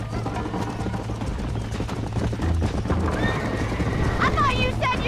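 Horse in Red Dead Redemption 2 galloping with steady clip-clop hooves, then neighing sharply near the end, mixed with game music and voices talking over it.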